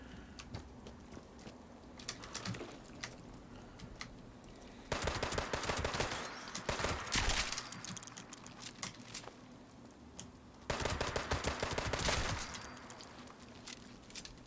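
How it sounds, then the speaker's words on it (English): Gatling laser firing in Fallout 76, two sustained bursts of rapid, crackling automatic fire that each run for a few seconds, separated by quieter stretches of faint clicking and game ambience, fairly quiet overall. "Gatling laser."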